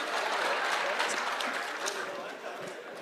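A crowd at a public security meeting in Migori County breaks into applause. The clapping is steady and fairly loud, with a slight fade toward the end and some murmuring voices mixed in.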